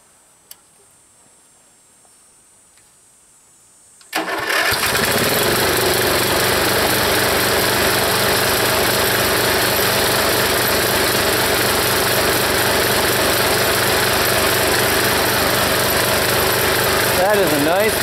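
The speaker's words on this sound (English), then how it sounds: "So I'm going to fire up the log splitter and we'll split them up." A gas engine on a log splitter for processing oak firewood starts up after a few quiet seconds, then idles loudly and steadily nearby with a rapid ticking, vibrating chug.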